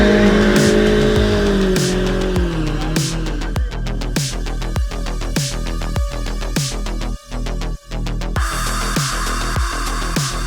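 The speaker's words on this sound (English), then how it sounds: "Watch this car take off." A modern muscle car launches hard at a drag racing event, its loud engine roaring under sustained tire squeal that gives way to a rapid series of rhythmic bursts as it pulls away.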